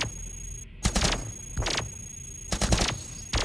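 Weapons fire in the Cogmind video game, including heavy cannon shots, in four loud bursts of rapid mechanical gunfire separated by short pauses.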